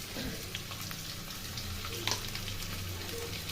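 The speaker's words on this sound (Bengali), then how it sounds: "ডুমো ডুমো করে কেটে রাখা আলু ভেজে নিচ্ছি।" Diced potatoes fry in hot oil with a steady, soft sizzle and crackle throughout, joined by a brief louder clatter near the middle, probably a utensil stirring the pan.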